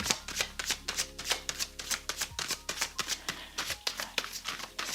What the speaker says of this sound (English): Okay, I'm shuffling